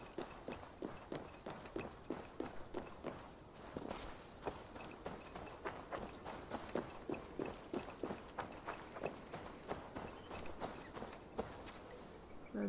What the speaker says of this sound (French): Là-bas, je vois un cheval.